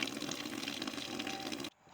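Water gushing into a container for rabbits, a close, steady rushing pour that cuts off abruptly near the end, leaving a faint quiet background.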